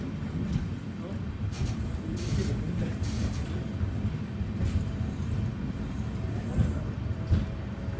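The Mangaluru to Rameswaram Express pulls into Oddanchatram railway station at night. A low, continuous rumble of wheels and carriages rolls on steadily, heard from on board.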